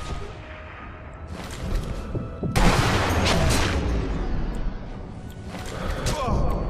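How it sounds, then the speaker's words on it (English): Gunfire in the video game Sniper Elite V2 during co-op play, a loud sudden burst of shots and booming impacts over continuous noisy battle ambience, with voices mixed in. "They're still shooting you."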